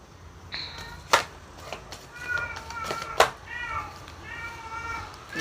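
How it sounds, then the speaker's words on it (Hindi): A pet cat meows repeatedly indoors, several drawn-out calls spread across the stretch, mixed with occasional sharp knocks and a person's voice in the background. "ये बिल्लू कैसी आवाज़ निकाल रहा है।"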